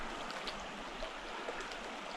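A mountain creek flows steadily, its water making a soft, continuous rushing and trickling sound that stays even and close throughout, with no voices.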